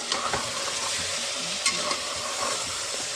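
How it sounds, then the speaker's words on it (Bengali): Mutton curry being sautéed and stirred in a pan, with a steady sizzle and repeated scraping strokes of the spoon, close and loud with no talking. "এই যে দেখো, আমি ঢাকা দিয়ে দিয়ে একটুখানি কষিয়ে নিচ্ছি।"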